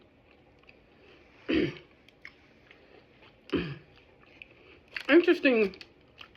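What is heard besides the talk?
chewing a Burger King burger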